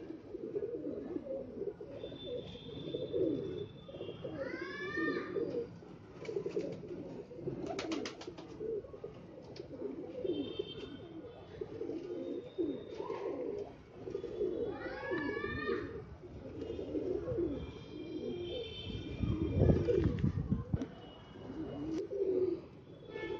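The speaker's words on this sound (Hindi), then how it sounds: "और एक रहा ये कबूतर, हरा कबूतर है।" Highflyer pigeons coo softly in a loft, with repeated low throaty coos and occasional chirps from other birds over a murmur of background noise.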